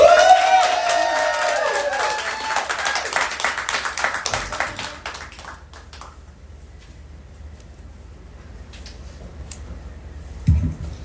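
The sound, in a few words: audience clapping and cheering for a performer at an open mic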